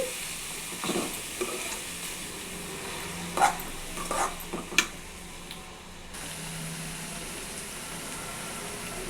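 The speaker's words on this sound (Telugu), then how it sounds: "అలసందలని వేసుకోండి ఇవి తేమ లేకుండా బాగా డ్రై చేయాలి" Pre-boiled black-eyed peas dry-roasting in a pan, stirred to drive off moisture: a faint, soft hiss with a few scraping spoon strokes clustered in the middle, fairly quiet throughout.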